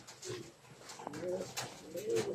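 Pigeons coo softly in low, rolling phrases, several calls overlapping at close range with faint background noise.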